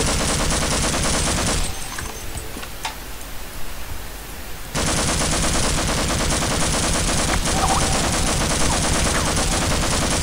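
Gunfire in the video game Half-Life: loud, dense bursts of rapid shots fill the clip, dropping away for a few seconds in the middle before the heavy firing resumes, with no voices.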